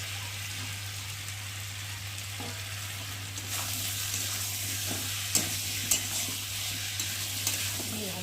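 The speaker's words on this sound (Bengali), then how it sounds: "এবার দিয়ে দেবো চিংড়ি মাছ।" Prawns sizzle in hot oil in a pan with potato and pointed gourd, a steady frying hiss over a low constant hum, broken by a few scrapes and clinks of stirring.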